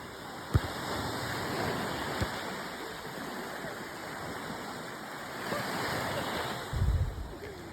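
Sea waves at the seaside wash in a steady broadband roar, with a slightly stronger surge near the end and no voices.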